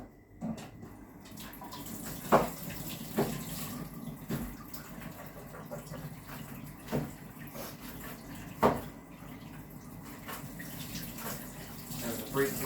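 Tap water runs steadily into a kitchen sink while vegetables are rinsed for a spaghetti dinner, a fairly close, continuous wash with a few louder splashes and knocks, and occasional voices in the room.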